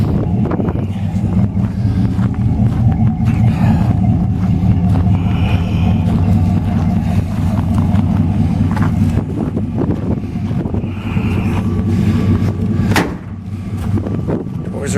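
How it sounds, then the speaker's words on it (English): Wind buffets outdoors beside a 1959 GMC Apache Fleetside pickup, a steady rushing roar with gusty swells that stays loud and constant for the whole stretch. "Be a little bit windy"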